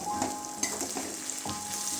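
Chopped tomato and green chili sizzle in hot oil in a pan, a steady close frying hiss with a few soft stirring bumps.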